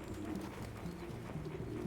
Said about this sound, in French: Bouge le pigeon.